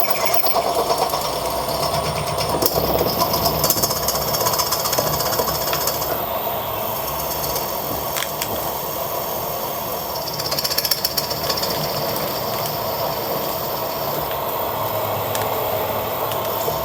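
A 6mm pilot drill bores into a cast iron cylinder block, a continuous loud grinding, rattling machine noise that holds steady throughout with slight rises and dips, no voices.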